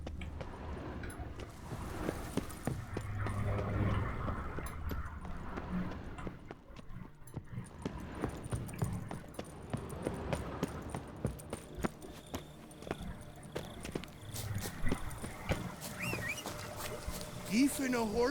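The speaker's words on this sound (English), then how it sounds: "Even a horse drops if you ride it at a constant gallop" A horse gallops in The Witcher 3, its hooves drumming in a steady clip-clop rhythm under game sounds while a person talks over it.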